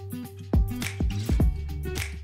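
Water runs into a Geberit Sigma 8 concealed cistern of a wall-hung toilet once the shut-off valve is opened, heard close up as a steady low fill with several sharp dripping splashes and squishy gurgles.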